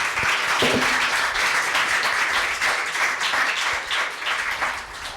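An audience at a literary conversation event about Booker Award-winning stories applauds in a steady, fairly loud wash of clapping that holds for several seconds without speech.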